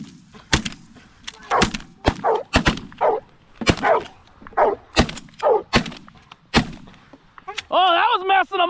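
Shotguns fire during a Canada goose hunt, a rapid volley of about a dozen sharp, loud blasts spread over several seconds, with shouted voices and honking geese between and after the shots.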